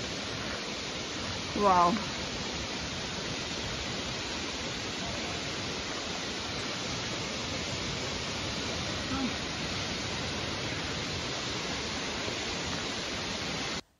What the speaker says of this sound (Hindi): मतलब पूरी जिंदगी में पहली बार देख रही हूँ ये वाटरफॉल, मतलब कोई भी वाटरफॉल।